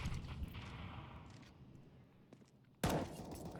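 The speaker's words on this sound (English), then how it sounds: "More speculative wall bangs coming in." Gunfire from wall bangs in the video game CS:GO, mostly distant and muffled under a quiet, rumbling background before one sudden loud, sharp burst near the end.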